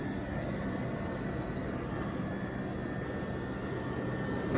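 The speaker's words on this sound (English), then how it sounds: "you can hear the fans kicking in. But you can also hear that AC compressor is kind of loud" A Jeep Wrangler 4xe's AC compressor and cooling fans run together as a steady, loud, broadband whir and drone that holds constant throughout.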